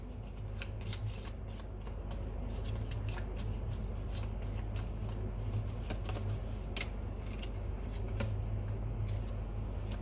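Tarot cards are shuffled nonstop at close range, making a fast, dense riffle of papery flicks and snaps that stays steady for the whole stretch.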